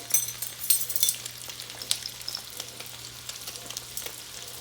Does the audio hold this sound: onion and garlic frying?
yes